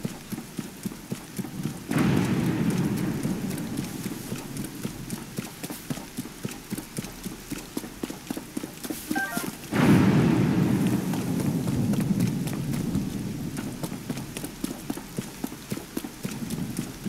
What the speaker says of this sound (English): Of course, it's raining again.